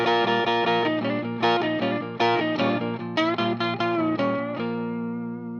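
Electric guitar with a distorted, effected tone plays a blues lick built on double stops, with quick, punchy two-note chords and slides, played solo and up close.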